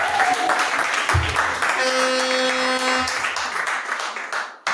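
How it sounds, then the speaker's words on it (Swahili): A church congregation claps and ululates in praise, with a sustained high trilling cry rising over the scattered applause for a couple of seconds before fading. "Mpigie Bwana Yesu makofi na vigelegele."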